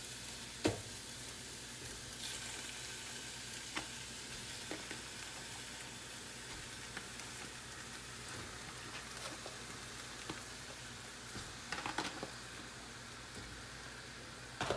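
Ground turkey dropped into a hot pan for lasagna, giving a steady, moderately quiet sizzle and frying crackle with a few sharper pops, no talking.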